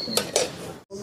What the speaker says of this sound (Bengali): অল্প একটু ঢাকনা দিয়ে রেখে দিই।